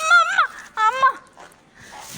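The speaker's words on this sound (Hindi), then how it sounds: "और ये देखो सामने कुत्ता खड़ा है" A dog outdoors gives a few high, whining yelps in two short bursts, fairly close, followed by quieter scuffling.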